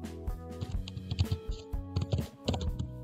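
Rapid, irregular clacking of keys on a computer keyboard as a web address is typed during a CodeIgniter 3 localhost setup, close and fairly distinct, with short clusters of strokes and brief pauses over a low background hum.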